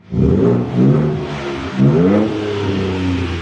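A 2022 Ford Ranger Raptor, a 400 HP truck in Baja mode, revs loudly and close up, its exhaust note rising and falling through several throttle blips with a deep, rumbling tone and no talk over it.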